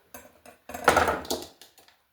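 A pan of potatoes au gratin being set onto a metal cookie sheet in the oven: a few light taps, then a louder close metallic clatter and scrape, and a couple of soft final clinks.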